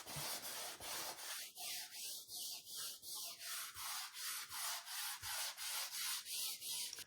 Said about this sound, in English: I've got 240 sandpaper on my finger sander, and I'm just gonna go with the grain, just gonna run it across the top.